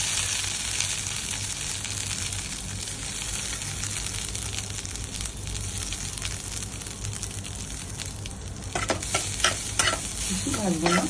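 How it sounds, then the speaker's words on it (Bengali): Mustard seeds tempering in hot oil for a sponge gourd and poppy seed curry give a steady close sizzle. Scattered crackles and pops come through, and stirring noises grow busier toward the end. "এখানে একটু সর্ষে ফোড়ন দেব।"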